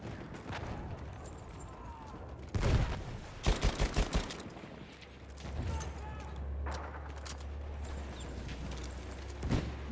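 Gunfire from a machine gun in Battlefield 1, with loud bursts around the middle, a rapid cluster of shots, and scattered distant gunfire under steady low rumble and battlefield ambience.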